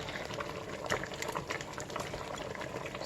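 Meat simmering at a steady boil in a pot for chicken light soup, a continuous close bubbling and popping with no pauses.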